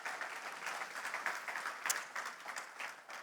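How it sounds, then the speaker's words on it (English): Audience applause at a live talks event in Kuala Lumpur, a steady patter of many hands clapping at moderate distance, fairly quiet and sustained without pause. "Can we have some applause for yourself"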